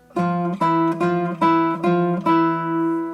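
A guitar plays the closing octave move of a song: about six clean plucked notes in a steady, even rhythm, each ringing briefly, heard alone.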